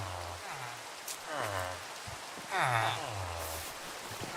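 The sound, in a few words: rain in Minecraft video game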